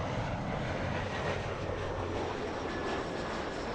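A Delta jet airliner at LAX fills the air with a loud, continuous roar of engine noise, a broad steady rumble with a faint tonal whine, sustained throughout without talking.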